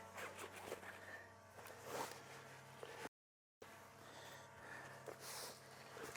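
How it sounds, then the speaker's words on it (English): A jacket zipper rasps close by in two quick runs, separated by a brief moment of silence. "It's got a zipper."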